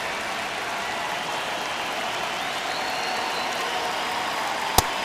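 Steady, dense crowd murmur at Oracle Park during a one-run ninth inning of a Yankees–Giants game, a continuous wash of voices and rustle with one sharp brief pop near the end.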